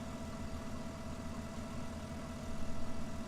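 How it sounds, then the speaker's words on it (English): Baler and tractor engine idling on low revs in Farming Simulator 17, a steady quiet low drone with a faint ticking pulse and a slight swell near the end, no voices. "Barely hear it ticking over there just when it's on idle."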